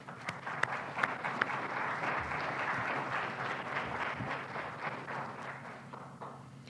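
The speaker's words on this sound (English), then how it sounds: "Let's do a round of applause for them." Conference audience at an opening plenary applauds steadily, a dense wash of many hands clapping that stays even for several seconds and then fades slightly, heard from within the hall.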